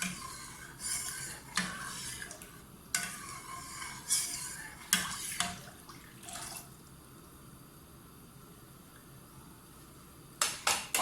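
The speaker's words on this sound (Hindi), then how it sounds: "जब तक दूध उबलेगा नहीं तब तक हमने इसे हिलाते रहना है मुसलसल।" Spoon stirring one litre of full cream milk in a pot before it boils, giving repeated scraping and clinking strokes in bursts with quieter gaps, close up, with no talking.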